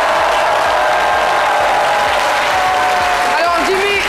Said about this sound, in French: merci d'applaudir Jean-Michel Auna